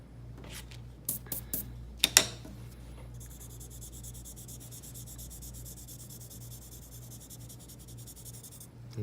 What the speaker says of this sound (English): I'm gonna erase this out a little bit because that's where the light's hitting it.